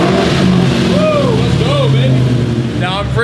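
A 200,000-mile Ford Mustang being readied for autocross revs loudly with a steady, close engine roar, while a voice talks and whoops over the sound.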